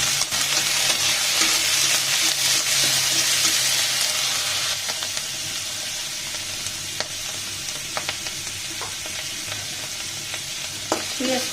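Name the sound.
onion stalks frying in oil in a pan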